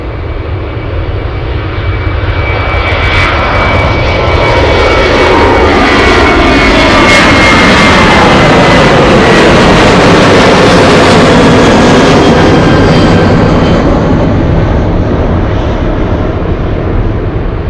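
An Alaska Airlines Boeing 737-700 roars past with its jet engines, a loud, broad rushing roar with a whining tone that swells and then slowly fades as it recedes, with no talking.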